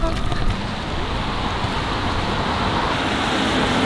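Steady rain falls outdoors at dusk, a continuous dense hiss filling the scene at even loudness throughout, with no voices heard.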